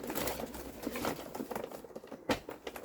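Soft cooing and fluttering of pigeons close by, with scattered wing flaps and shuffling sounds among the birds.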